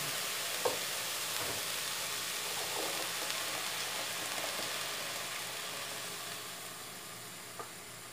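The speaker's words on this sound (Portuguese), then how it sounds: "E agora eu vou colocar o molho." Sauce goes into a pan of cabbage, corn and carrot that sizzles steadily, a dense, even frying hiss with a few faint clinks, heard close with no talking.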